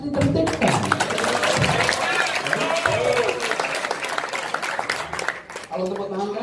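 Loud, sustained applause from an audience at a political speech, dense clapping filling the whole stretch with a brief dip near the end, crowd noise mixed in.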